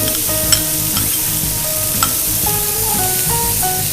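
Chopped onions, carrots and celery cooking in butter in a pan, a loud even sizzle that runs without a break, with a couple of sharp pops and a few soft tonal kitchen sounds in the background.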